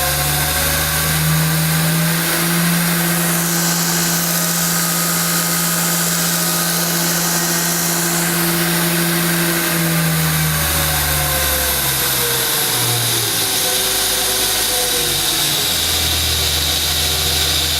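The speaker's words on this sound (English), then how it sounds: "So I'll keep it running because one of the other cool features of this grinder is its axis neutral control wheel up here." A Beaumont Metal Works belt grinder runs at full speed, giving a loud continuous motor whine with a steady hum that shifts pitch partway through. No one speaks.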